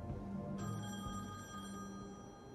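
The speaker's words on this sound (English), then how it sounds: "I thought that phone was, like, my phone in real life" A telephone rings inside the video game The Wolf Among Us, an electronic bell tone that starts about half a second in and carries on steadily through the rest of the short clip over a low background hum.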